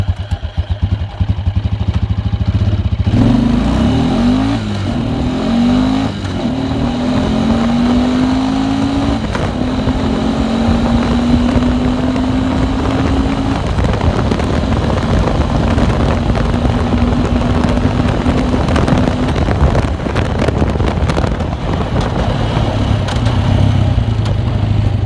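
Carbureted Rotax engine on a Bombardier Traxter / John Deere Buck ATV running steadily, its drone climbing in pitch as it revs up and holds, with wind rushing across the microphone throughout.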